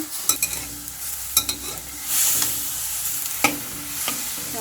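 Pork poaching in a pot of liquid for a glass noodle salad, stirred with repeated sharp utensil knocks against the pot over a bubbling, hissing background, close and clear with no speech.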